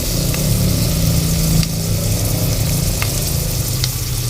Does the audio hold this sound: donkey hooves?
no